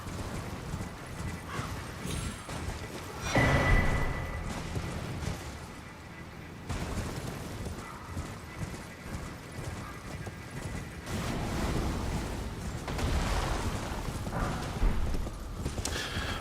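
Horse galloping in the video game Elden Ring, steady clip-clop hoofbeats running throughout with heavier impact bursts and game effects layered over them.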